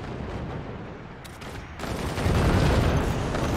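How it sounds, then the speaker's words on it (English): Nukes and missiles hammer into the ground in the physics war game Forts, a dense rumbling roar of blasts that thins briefly and then swells louder and fuller, continuous and close. "They're sending it to the ground, so all the nukes and the missiles go into the ground."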